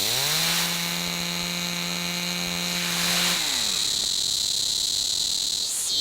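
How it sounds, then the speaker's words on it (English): A cicada, a tiny insect said to rival a chainsaw in volume, gives off a loud, steady, piercing drone that holds without pause from start to finish. "the loudest insect in the world, the cicada"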